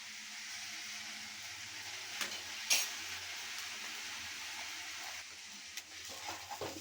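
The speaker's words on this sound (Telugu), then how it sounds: "ఇప్పుడు ఓన్లీ హై ఫ్లేమ్ మీద మాత్రమే టాస్ చేసుకోవాలండి." Vegetable fried rice tossed in a pan over a high flame, seasoned with soy sauce and vinegar, giving a steady broadband sizzle with a few sharp scraping clinks of the utensil against the pan, no talking.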